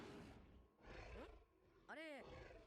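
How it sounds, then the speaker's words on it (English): A bear in the One Piece anime lets out a loud, rising-and-falling roar near the end, after stretches of rumbling growls, with voices talking underneath. "That is not the tiger. That is a bear."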